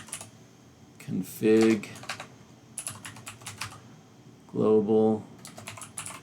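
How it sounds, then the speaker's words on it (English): Bursts of computer-keyboard typing come in quick clattering runs, close and clear, between stretches of someone speaking quietly while entering a command on a remote machine. "So I will just type this in."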